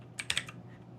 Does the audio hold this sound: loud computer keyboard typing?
yes